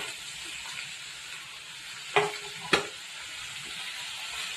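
Tomatoes frying slowly in a pan over a low flame, giving a steady soft sizzle throughout, with two quick clinks of a utensil against the pan midway.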